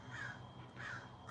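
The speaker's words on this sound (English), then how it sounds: "crows make up for it. I like sitting amongst that many wild animals and listening to them." Wild crows caw in three drawn-out, harsh calls spaced evenly apart, faint and distant with no other voices nearby.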